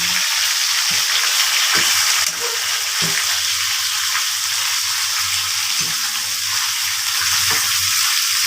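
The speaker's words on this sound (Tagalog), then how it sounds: "gisahin po muna natin" Steady loud sizzling of chicken sautéing in a hot pan, with occasional soft clinks and stirring scrapes, close up and without talk.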